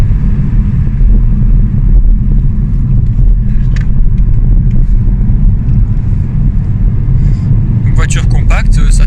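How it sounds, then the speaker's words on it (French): A 2019 Ford Fiesta Mk8 ST-line with a 1.0-litre 101 hp three-cylinder engine hums loudly from inside the cabin, its low engine note climbing as revs rise, with someone talking over it. "Ça monte bien dans les tours, donc le son est sympa."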